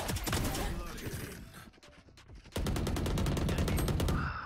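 Automatic gunfire in the game Valorant: dense, loud rapid-fire bursts that ease off in the middle, then resume as a steady stream of sharp shots up close.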